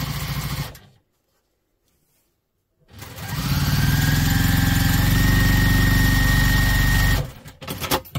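A sewing machine stitching down a crossbody bag flap starts after a short silence and runs in a loud, steady whirring burst for about four seconds, then stops, with light handling noise afterward.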